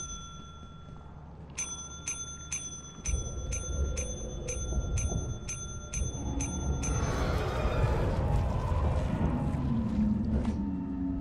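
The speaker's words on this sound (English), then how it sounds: "Don't spam the bell." A video game bell dings about a dozen times in quick, even succession, bright and sharp, before a louder jumble of game sounds takes over.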